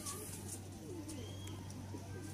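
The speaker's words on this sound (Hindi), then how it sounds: "ये मेरे शौक़ वाले कबूतर" Soft, repeated cooing of fancy breeding pigeons close by, low rolling calls over a faint steady hum.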